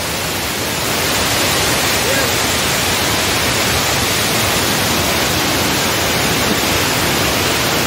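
Tons waterfall in Rewa, a heavy continuous roar of rushing, crashing water, loud and steady throughout after a brief quieter start, with no other distinct sounds.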